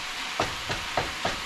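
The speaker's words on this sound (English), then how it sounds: "let's get this meat mixed in with the onions and the celery" A spatula scrapes through ground meat frying with onions and celery in a pan. Four distinct stirring strokes cut across a steady sizzle.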